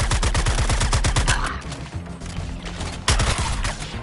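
Rapid gunfire from the Suicide Squad: Kill the Justice League video game: dense bursts of automatic shots, a pause with softer game ambience, then another loud burst near the end, with no talking.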